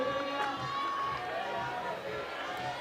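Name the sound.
crowd cheering a climber at climbing World Cup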